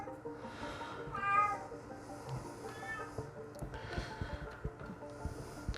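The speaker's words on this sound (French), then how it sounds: "vous entendez un chat qui miaule" A cat meows several times at a modest distance, with drawn-out cries spaced a second or two apart over quiet room noise and light clatter.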